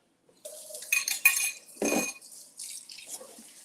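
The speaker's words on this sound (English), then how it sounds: "I know sometimes the silverware can get loud, so I'm gonna try and be more delicate." Silverware and dishes clinking and clattering while cleaning up after cooking crispy Caesar chicken skewers, in quick bursts of metallic taps and scrapes with a little running water, close by and with no talk.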